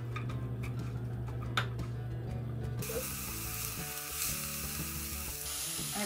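Chopped onion sizzles in a pan as it softens for a bolognese sauce. Clicking and rattling come first, then a loud, steady frying hiss swells up close and keeps going.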